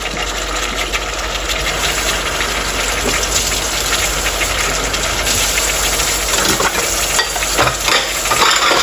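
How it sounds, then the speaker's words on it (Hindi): Chicken and taro root being sautéed together in a pot, a loud, dense sizzle running without a break and stirred throughout, heard close up with no talking. "अब इसमें हम अरबी डाल देते हैं। थोड़ा इसको भूनेंगे।"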